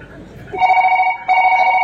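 A telephone rings twice in close succession, loud and near, each electronic ring a steady tonal burst with a short gap between them, after a moment of quieter room sound at the start.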